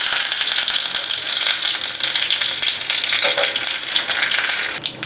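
Curry leaves hit hot sesame oil that already holds crackled mustard seeds, urad dal and dried red chillies, tempering a ginger chutney. The oil gives a loud, steady, close sizzle that crackles continuously with no talk over it.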